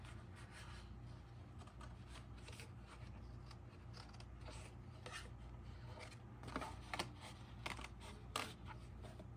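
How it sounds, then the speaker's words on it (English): Scissors cutting pieces off a paper hat pattern, heard close and quiet as a series of soft snips and rustling paper over a low background hum, with no voices. "And then you just want to go and cut those pieces off."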